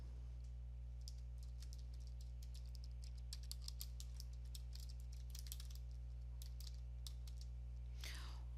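A computer keyboard clacks out a team name in quick irregular bursts of keystrokes, close but quiet over a steady low electrical hum, ending in a brief rustle.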